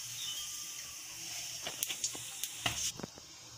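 Nigella seeds hit hot oil for tempering a Bengali fish-roe fritter curry, giving a faint close hiss with a handful of quick crackles and pops toward the end.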